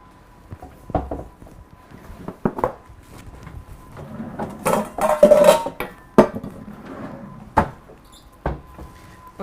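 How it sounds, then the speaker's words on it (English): A kitchen drawer with a stalk of celery caught in it is tugged open and shut, giving a string of clunks, scrapes and knocks of dishes close by, with no talk. "my celery's caught in the drawer"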